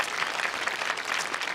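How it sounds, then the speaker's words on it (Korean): A church congregation at a Friday prayer meeting gives the ministers a big round of applause, a short burst of dense, lively clapping that fills the room evenly from start to finish. "우리 함께 열심히 수고해 주신 사역자들 다시 큰 박수로 우리가 한번 격려하도록 하겠습니다."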